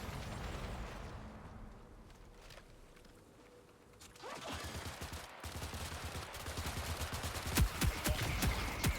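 Rapid bursts of gunfire from an online shooter game, Marathon, crackle loudly in dense volleys in the second half, following a quieter stretch of muffled game ambience.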